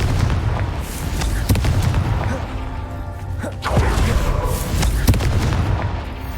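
Confringo spell blasts in the video game Hogwarts Legacy, several loud booming impacts and explosive thumps at irregular intervals over continuous game noise.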